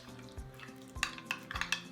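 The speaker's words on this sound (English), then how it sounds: "we're just gonna kind of stir it just a little bit." Milk kefir stirred in a bowl, soft scraping strokes with a few brighter clinks against the bowl's side, close and moderately quiet, no talk.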